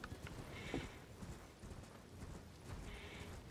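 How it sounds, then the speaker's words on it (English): Horse hooves clip-clop steadily in Elden Ring, a continuous rhythmic trot at moderate distance with faint background ambience and no talking. "let's go ahead and hop up on our horse"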